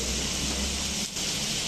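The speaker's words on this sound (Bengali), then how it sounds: "সতে ফ্রাই করা হচ্ছে ভেজিটেবলগুলো" Vegetables sautéing in a hot pan for Indian butter chicken, a steady dense sizzle and hiss that holds throughout, with one brief dip near the end.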